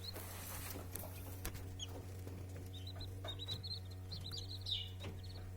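An Abyssinian ornamental hen gives soft, repeated clucking calls to adopted Silver Wyandotte chicks, amid their faint high chirps, over a steady low hum.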